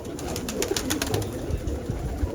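Young racing pigeons of uniform build cooing in a loft, soft low murmuring coos repeating close by, with faint ticking in the background.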